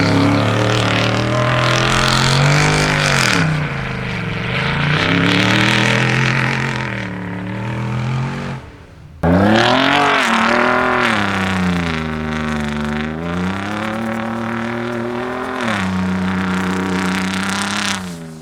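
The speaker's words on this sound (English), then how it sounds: "This might be a good time to cue some exhaust." Ford Raptor pickup truck exhaust, comparing a 2019 Gen 2 and a 2014 SVT Gen 1, roaring loud and close as revs climb and fall in two long sweeping pulls separated by a brief drop, no talking.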